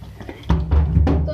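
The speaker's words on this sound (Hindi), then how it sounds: "तो अब मैं इसमें ऐड करूँगी पानी 2 गिलास" Water is poured into a cooking pot of spiced potato and white eggplant curry, giving a few broad splashing, sizzling bursts over steady low kitchen noise.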